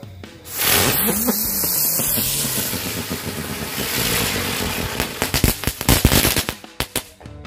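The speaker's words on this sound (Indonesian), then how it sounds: "Mercon bunga teratai." A lotus flower firecracker goes off at night, opening with a hissing, crackling burn that builds into a rapid series of sharp, loud pops and bangs near the end.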